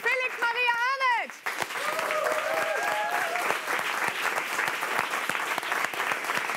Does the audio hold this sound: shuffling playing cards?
no